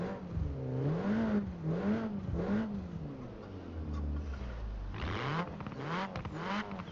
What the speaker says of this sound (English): I'm gonna give her a few revs.